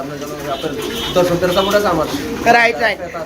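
Pigeons being sold coo nearby in low, rolling, throaty calls that overlap and swell, loud and continuous over a few seconds.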